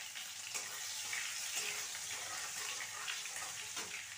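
Chopped chilli and coriander sizzle quietly in a pan with ginger, a soft continuous frying hiss and light stirring, fairly faint and steady with no voices.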